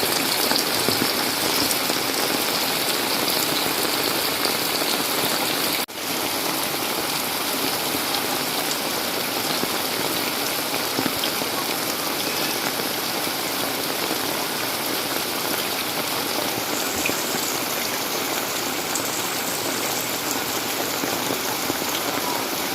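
Steady rain falling during the rainy season in the Philippines, a dense, even patter on surfaces heard nearby with a faint engine hum underneath and no talking.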